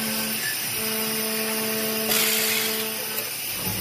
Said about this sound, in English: this machine is gonna essentially do the little holes for cooling